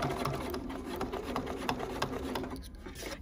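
A BERNINA sewing machine with a walking foot stitches fabric at a steady pace, its rapid needle clatter running close and even with white thread, a brief slowdown near the end.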